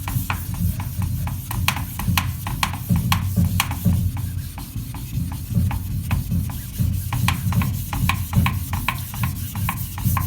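A straight razor is stroked back and forth across a wet Chosera 1K whetstone, making steady, even, close-up rasping swishes in a regular rhythm.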